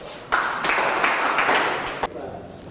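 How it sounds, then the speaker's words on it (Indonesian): A class of students applauds in a classroom, a short burst of dense clapping lasting about two seconds that stops abruptly. "Berikan aplaus."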